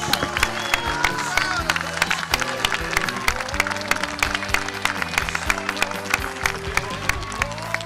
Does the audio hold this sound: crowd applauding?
yes